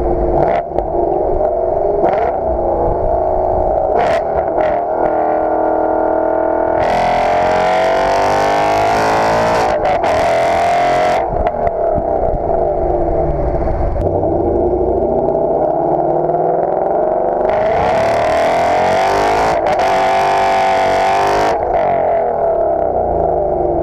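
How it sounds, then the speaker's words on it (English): A 2016 Mustang GT with a Corsa Extreme catback exhaust roars loudly inside a tunnel, its echoing engine note climbing and falling through repeated revs and downshifts, with sharp bursts of higher-pitched rasp. "When you're rev match downshifting, it gives you these nasty pops, and it's a good noise."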